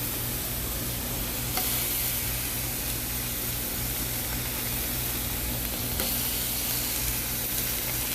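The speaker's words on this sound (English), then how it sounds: "I threw one burger on and you can already hear that sizzle" A single thin burger sizzles on a Blackstone 17-inch griddle, a steady, dense frying hiss that holds evenly and close throughout with a low hum beneath and no talking.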